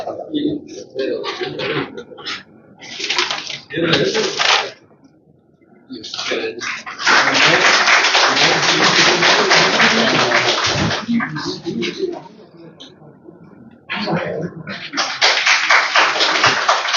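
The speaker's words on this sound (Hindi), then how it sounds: "एक बार ताली बजा करके आप सभी मुख्य अतिथियों का स्वागत करें" An audience at an Indian Knowledge System session held at IIT applauds to welcome the chief guests: loud, dense clapping that swells after some talk, fades briefly, then starts again strongly.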